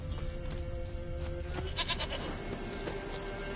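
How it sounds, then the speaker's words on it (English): A goat bleats in a video game, several short wavering calls over a steady low ambient backdrop, fairly quiet and alone. "Here, goat."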